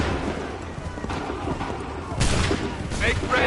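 Musket volleys crack out in Assassin's Creed 3 Remastered, a massed line firing together, with booming bursts near the middle and end over shouted commands.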